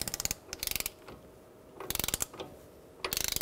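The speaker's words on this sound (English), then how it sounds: "we're gonna torque this to 184 foot-pounds" A ratchet-style torque wrench tightens the front axle nut on a 2000–2007 Ford Taurus, loud close bursts of quick clicks separated by short pauses, with no talking.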